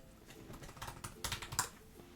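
Fingers tap quietly on a computer keyboard nearby, a quick irregular patter of soft clicks with a few louder keystrokes toward the end, no voices.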